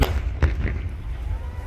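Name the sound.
gas cylinders exploding in burning truck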